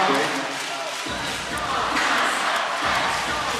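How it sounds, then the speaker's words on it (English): A basketball arena crowd at a league finals game between Taipei Fubon Braves and New Taipei Kings cheers and roars steadily throughout, a broad wash of noise swelling slightly midway, with no clear talk on top. "A little cheer off right now going in the stadium as the Kings out of their huddle first."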